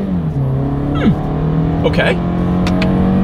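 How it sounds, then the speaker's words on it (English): A 2024 Toyota Camry pulls away from a standstill in first gear in manual shift mode, its engine drone climbing steadily and rising in pitch through a shift, with a brief spoken word over the cabin noise. "see how quickly we can get our new 2024 Camry here up to speed"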